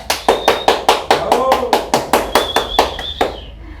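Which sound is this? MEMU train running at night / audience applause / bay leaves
audience applause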